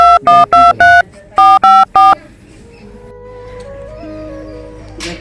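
A telephone is being dialed, giving seven sharp, loud keypad tones in two quick bursts. A quieter ringing tone and low background murmur follow.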